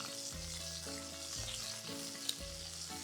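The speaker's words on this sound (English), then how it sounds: "I'm just going to continue sauteing these for a little while on each side" Shrimp sautéing in oil in a pan for a Greek tomato and feta dish, a steady close sizzle running throughout with a low hum beneath and one brief clink, no voices.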